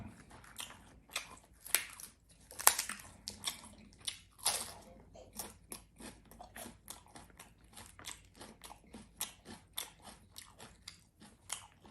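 Someone bites and chews baked Thai pork ribs close to the mic, giving repeated crunchy, wet chomps in a steady rhythm with brief louder bites, and no one speaks.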